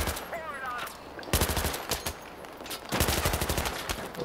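Gunfire in the video game Battlefield 3: rapid bursts of automatic weapon fire, loud and close, in two main volleys with short single shots between, no talking.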